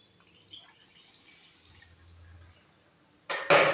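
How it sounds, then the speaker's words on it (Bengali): Hot water splashes into a pot of rice, lentils and spices after a quiet stretch, a loud close pour near the end that lasts only about half a second. "এখানে আমি গরম জলটা দিচ্ছি।"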